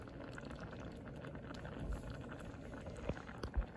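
Cranberries with honey and cinnamon simmer in a pot, making a faint, steady bubbling with a few soft pops from the berries bursting.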